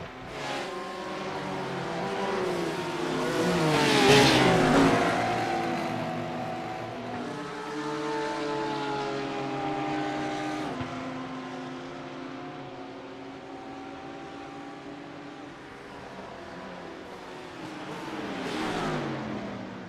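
GT3 race car engines in a racing video game, several cars running close together with steady engine drone, rising and falling revs and a louder pass near the start.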